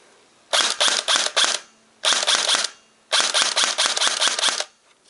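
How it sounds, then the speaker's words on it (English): An Airsoft GI I4-A3 rifle fires on full auto during a rate-of-fire test. Three loud, close bursts of rapid, crisp cracks are separated by short silences, and the last burst is the longest. "I'm going to just give you a short rate of fire test on this"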